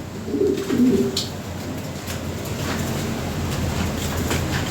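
European Lahori pigeons coo close by in low throaty bursts near the start, then a steady rumbling background noise continues.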